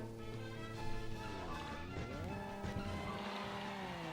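Race vehicles in the Kirby Air Ride video game whine steadily with rising and falling engine-like tones, shifting pitch as they race, alongside lighter game effects, with no talk.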